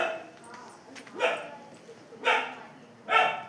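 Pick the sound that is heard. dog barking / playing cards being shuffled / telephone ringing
dog barking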